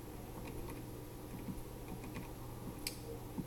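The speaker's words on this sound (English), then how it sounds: "So if I type that into my calculator in one go" Someone taps numbers into a handheld calculator while working a mechanics problem, a quiet run of small, irregular clicks of keys pressed close up, with no talking.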